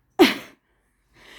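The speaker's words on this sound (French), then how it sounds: "J'ai envie d'éternuer." A single sharp, close sneeze bursts out, then a short silence and a faint breath afterward.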